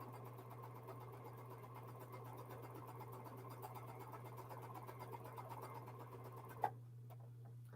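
A sewing machine running with a quarter-inch foot while quilting a jelly roll, a steady soft mechanical hum and rapid stitching that stops abruptly near the end with a small click.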